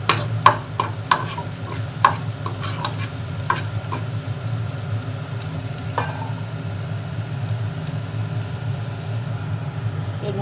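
Onions and chopped chili fry in a pan, giving a steady, close sizzle throughout with repeated scrapes and taps of a stirring spoon, sharpest near the start.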